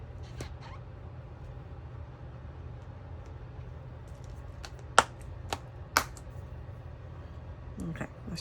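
A rubber stamp pressed onto planner paper, heard as two sharp, quiet taps about a second apart over a low, steady room hum.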